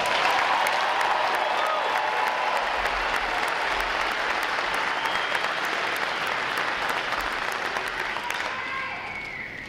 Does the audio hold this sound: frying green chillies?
no